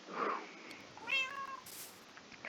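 A cat meowing in the Minecraft video game: two short, faint meows a moment apart, with a small chime-like game sound after them and no one talking.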